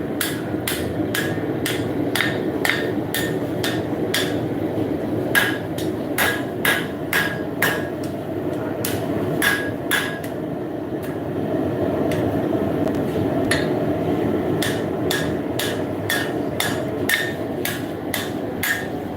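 Steady hammer blows ring on the broad side of an anvil as a horseshoe is forged into a knife, striking in quick bursts of several hits with short pauses, loud and close over a constant background rumble.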